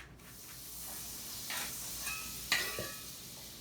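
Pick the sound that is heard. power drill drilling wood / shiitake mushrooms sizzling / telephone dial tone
shiitake mushrooms sizzling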